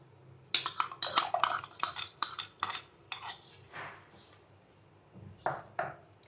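A spoon mixing tamarind pulp with chaat masala, salt and black salt in a bowl, giving a run of quick clinking and scraping strokes, then a pause and two more clinks near the end.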